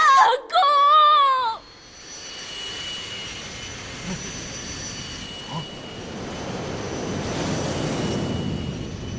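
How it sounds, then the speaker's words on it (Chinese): The EX fighter jet from the tokusatsu series Ultraman Gaia roars overhead as a steady jet-engine rush that builds toward the end, following a short, sweeping electronic tone at the start. "是 EX 战斗机，"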